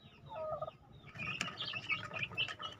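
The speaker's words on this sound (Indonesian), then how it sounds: "Babon keempat yang mengeram." Brooding hens on eggs in a chicken farm coop give soft, faint clucks and low throaty calls. The sounds come in a short, irregular series, quiet and a little distant, with no talking.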